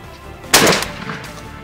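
A single loud shotgun blast from an Escort youth model 20 gauge, a sharp crack with a short rumbling tail, fired alone as a quick follow-up shot on a turkey hunt.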